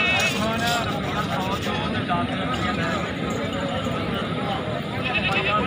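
Goats bleating at a livestock market among dense crowd noise and chatter, several wavering bleats rising over a steady busy background, with people talking nearby.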